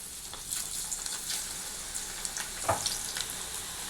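Amaranth leaf pakodi batter fries in hot oil, giving a steady close sizzle with scattered crackles and pops, one sharper burst near the end and no talking.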